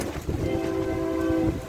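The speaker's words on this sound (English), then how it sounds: "He likes that air horn, man." A passing train bound for Waco blasts its air horn in one long, loud, steady tone lasting about a second, over rumbling rail noise.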